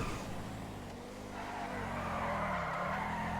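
A video game car driving fast, its engine humming steadily while tires squeal and skid in a sustained screech, moderately loud with no voices.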